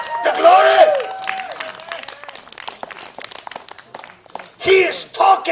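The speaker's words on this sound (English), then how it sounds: "Oh, come on, clap and give God the glory." A church congregation breaks into scattered clapping and cheering, loud at the start and swelling again near the end, mixed with voices and crowd hubbub.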